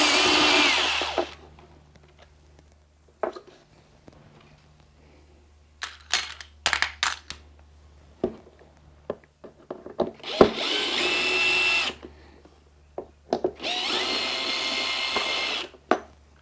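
A power drill runs in several bursts, some short whirs and some longer sustained runs, as it removes screws from the trunk lid of a 2021-2023 Honda Goldwing, with quiet clicks and handling noises between runs.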